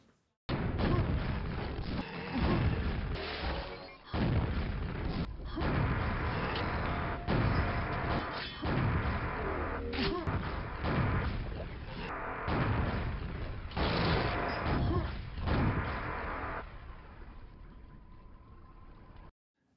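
Rocket explosions go off again and again as a player rocket-jumps through a level of the shooter Quake. Rapid blasts follow one another almost continuously, loud and close, with only brief gaps between them.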